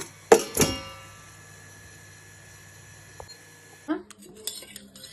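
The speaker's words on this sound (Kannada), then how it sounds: "ಕುಕ್ಕರ್ ಬಿಡ್ತಾ ಇದ್ದೀನಿ" A pressure cooker of cooked lentils is opened for sambar, and metal pots and lid clank sharply twice at the start, then a few lighter, fainter knocks and clinks follow after a quiet stretch.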